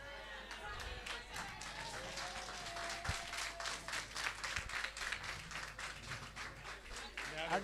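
An audience at a regional meeting in Nouakchott applauds in a dense, steady wash of clapping that stays loud throughout, with a few sharper individual claps and some voices mixed in.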